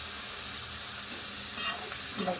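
Onion and tomato sizzling in a pan with a pinch of salt, giving a dense, close, steady frying hiss with a soft scrape of stirring near the end and no talk.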